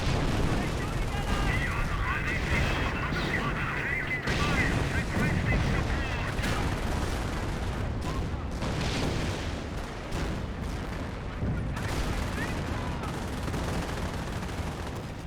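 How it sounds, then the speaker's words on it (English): Dense, continuous artillery and gunfire rumble in the World War II strategy game Company of Heroes, with booming impacts and crackling shots layered under steady talking. "Looks like it's British officer artillery."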